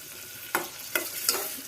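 Onions and green chillies fry in oil with a steady sizzle, broken by three distinct scraping strokes of a spatula against the pan.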